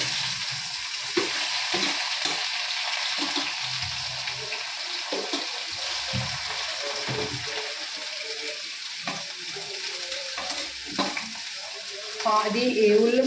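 Onions and green chillies frying in a pan after eggs, a continuous close sizzle with scattered spatula scrapes and stirring clatter, growing busier near the end, no voices.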